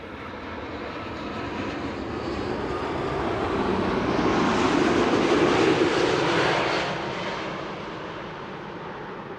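A Canadian airliner, registration C-GHPQ, first flown in April 2014, passes at Amsterdam Schiphol Airport, its engine roar swelling to a broad loud peak and then fading as it moves away.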